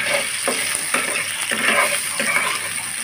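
Mango pieces fry in a hot pan with a steady close sizzle, broken by repeated scraping stirs and soft clinks of a utensil against the pan, while amm dal is being cooked.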